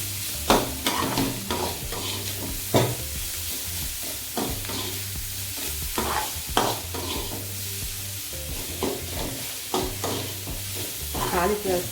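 Cauliflower rice stirred and sautéed in a pan, steady sizzling with frequent scraping strokes of a spoon against the pan, close and continuous with no talking.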